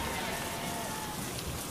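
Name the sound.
rain falling during an outdoor church service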